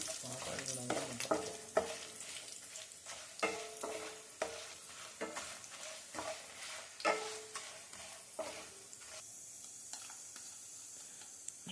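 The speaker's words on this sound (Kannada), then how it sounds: "ಕಡಲೆಕಾಳು, 3 ಮೆಣಸಿನಕಾಯಿ, ಜೀರಿಗೆ, ಕರಿಬೇವಿನ ಸೊಪ್ಪು ಇದೆಲ್ಲ ಹಾಕ್ಕೊಂಡು ಚೆನ್ನಾಗಿ ಬ್ರೌನ್ ಕಲರ್ ಬರೋವರೆಗೂ ಹುರಿದುಕೊಳ್ಳಬೇಕು." Chickpeas, chilies, cumin and curry leaves roasting in a pan give a steady sizzle with repeated scraping stirs, close up and fading toward a quieter hiss at the end.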